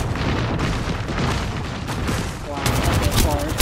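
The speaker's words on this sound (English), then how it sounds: "Oh, they're shooting at me." Dense, loud gunfire in the video game Apex Legends, with rapid overlapping shots and blasts that run continuously for a few seconds and grow sharper toward the end.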